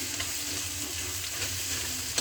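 Vegetables with egg, green chilli and onion stir-fry for chowmein in a home kitchen pan, a steady close sizzle with soft scraping stirs throughout and no voices.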